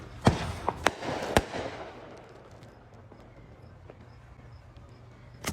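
Fourth of July fireworks seen from a balcony go off in a few sharp, loud bangs early on, then fade to scattered distant pops and crackles over a low background rumble.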